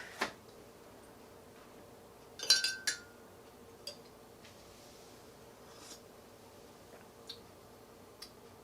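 A spoon stirs coffee sweetened with honey, with milk added, in a cup: scattered faint clinks and taps, one brief cluster of louder chinks, then sparse soft ticks in a quiet room.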